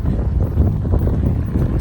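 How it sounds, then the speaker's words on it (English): Wind gusting outdoors in a seaside town centre, a steady loud low rumble of buffeting against the microphone that runs unbroken throughout. "Oh, it's windy."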